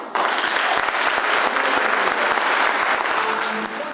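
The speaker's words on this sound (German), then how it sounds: "Applaus für den Spitzenkandidaten" A political party gathering in East Belgium gives its lead candidate a burst of applause that starts abruptly and runs dense and loud throughout, easing slightly only at the very end.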